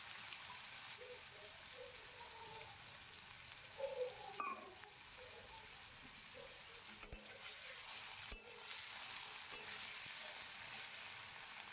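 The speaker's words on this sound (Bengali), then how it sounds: "এবার যে আলুগুলো কেটে রেখেছিলাম সেইগুলো ফোড়নের মধ্যে ছেড়ে দিলাম" Diced potatoes dropped into a hot cumin and dried red chilli tempering fry with a steady, soft sizzle, with a few brief stirring knocks partway through and no talking.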